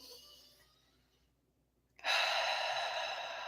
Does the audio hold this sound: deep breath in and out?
yes